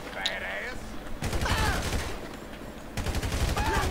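Dense bursts of automatic gunfire crackle through a firefight in GTA 5, with rapid volleys and short pauses while shouting voices carry over the shots.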